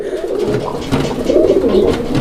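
Pigeons coo in low, throaty, rolling murmurs, several birds overlapping continuously and close by, with no talking.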